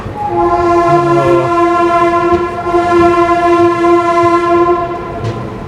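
Vishwamanava Express on the Hubli to Bengaluru line sounds a long, steady, loud horn for several seconds over the rumble of running rail cars, with no talk.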